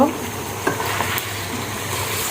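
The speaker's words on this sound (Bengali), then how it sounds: "এখন সব উপকরণ ভালোভাবে একটু নেড়ে ছেড়ে নিব" Ground ginger, garlic and cumin pastes are stirred with beef in a hot pan for a pumpkin beef curry, a close steady sizzle with a few soft spatula knocks.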